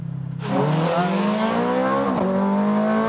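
Ferrari F430 Scuderia engine in a racing video game at Las Vegas Motor Speedway, a steady idle that suddenly roars into loud full-throttle acceleration, pitch climbing with a brief upshift dip near the end.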